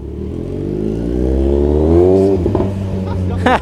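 A Kawasaki Z1000 motorcycle carrying a passenger revs up with rising, harmonic engine tone, then drops off into mechanical clatter and a short rev near the end, loud and close, with voices talking over it.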